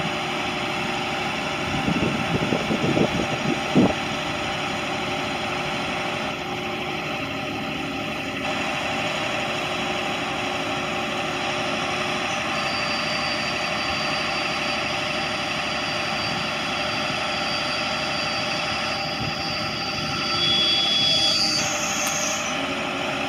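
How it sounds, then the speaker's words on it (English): The winch on a 2006 International 4400 crane truck runs with a steady mechanical whine and engine drone at moderate distance. A few short clanks come early, and the pitch shifts slightly near the end. "Winch works."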